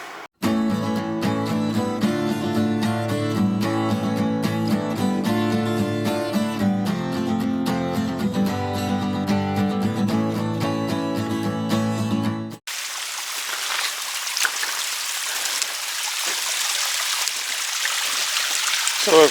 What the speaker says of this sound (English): So a creek, a little stream coming down from the mountain cliffs behind us